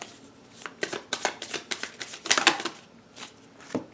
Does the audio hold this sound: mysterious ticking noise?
no